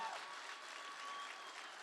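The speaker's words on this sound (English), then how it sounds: "Can we get a round of applause for all of you?" Steady, faint applause from a crowd at a children's charity benefit, a dense wash of clapping that holds evenly throughout without breaks.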